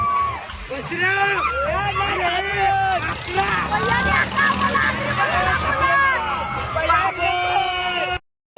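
Dense crowd hubbub at an Agri festival, with loud overlapping voices, shouts and whoops close by, continuous until an abrupt cut near the end.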